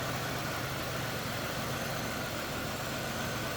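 A 2003 Chevrolet Monte Carlo SS with its 3.8-liter 3800 engine idles in a steady, even rumble with a smooth low drone and no change in pace, heard alone without talk.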